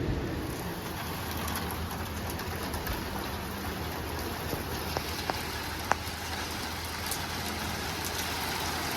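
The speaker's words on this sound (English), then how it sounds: "it's no fun doing it in the rain" Steady rain falls outdoors on a backyard metalworking site, a constant close hiss with a few sharp drip ticks and faint bird calls in the background, with no voices.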